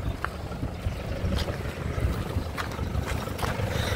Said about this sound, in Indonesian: Ini mesinnya nyala lur.